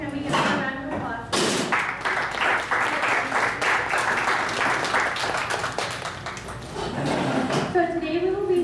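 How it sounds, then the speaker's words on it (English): Audience at a town hall meeting on underage drinking in Corcoran, California, breaking into applause for teen peer educators, a lively round of clapping with a few thumps, framed by a voice speaking before and after. "Can we give them a round of applause?"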